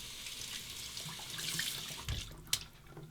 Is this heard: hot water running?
yes